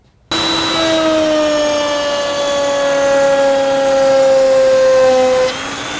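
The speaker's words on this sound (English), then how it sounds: "We're just going to route a basic dovetail groove into this piece of MDF." Router on a router table cutting a dovetail groove into MDF, starting abruptly with a loud, steady high-pitched whine that holds for several seconds before dropping off near the end.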